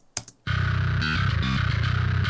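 Heavy, distorted djent bass from a virtual instrument plays a chugging, palm-muted riff with choppy stops, dense and loud after a brief click at the start.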